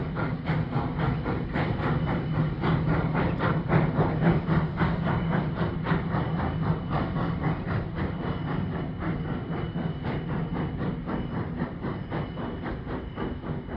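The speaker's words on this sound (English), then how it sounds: "This is just a short little tourist train." A short Virginia and Truckee Railroad steam tourist train near Gold Hill, Nevada rolls past with a steady rhythmic clatter and hiss of wheels and cars, loud and continuous throughout with no talking.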